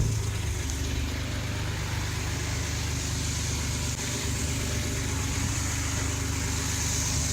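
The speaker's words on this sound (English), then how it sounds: "I'll crank the Jeep up." Jeep engine running at idle, a steady low rumble with a faint higher whine, holding an even level the whole time with no talking.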